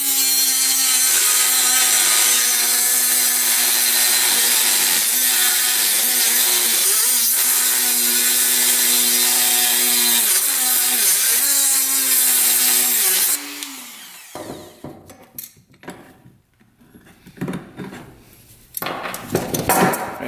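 Power tool cutting off seized bolts on a 6x6 ATV; a loud, steady high-pitched grinding whine with wavering pitch for about thirteen seconds, then stopping and giving way to scattered clanks and handling noises.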